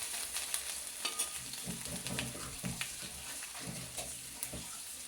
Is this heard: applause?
no